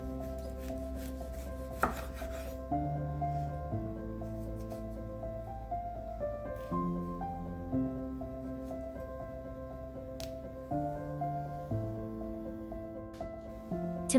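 A knife chops tomato on a board with a steady rhythm of soft, close cuts, heard under continuous background music.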